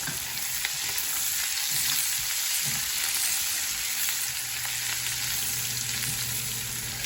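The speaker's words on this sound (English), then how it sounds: "This is probably another 10 minutes for this to brown up the meat" Ground meat browns in a hot pan for Southern fried cabbage with a constant, close sizzle and crackle of frying fat, and there is no talking.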